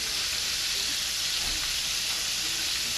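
Chicken livers frying in hot oil, a steady dense sizzle and hiss with faint pops, close and continuous without talk.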